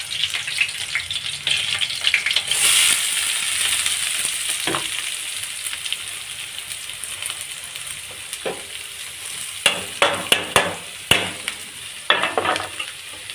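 Onion sizzling and frying in a hot pan, a steady dense crackle that swells early on, with sharp scraping stirs and clinks toward the end; no voices.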